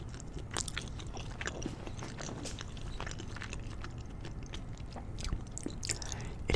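Someone eats Cheesecake Factory penne pasta, cheesy and slightly warm, with close, soft bites and wet chewing sounds repeating over a faint low background, and no talking.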